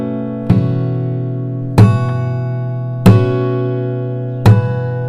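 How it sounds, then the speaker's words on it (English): Four sharp slap harmonics struck on the fretboard of a capoed acoustic guitar in a fingerstyle cover, each a bright percussive hit ringing out with sustained chiming tones, spaced evenly about a second and a half apart. "It's called slap harmonics, and basically you have to hit the fretboard with your right hand."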